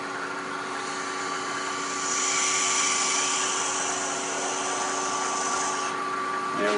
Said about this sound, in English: I use this 1/4 inch drill bit that I've got mounted in a handle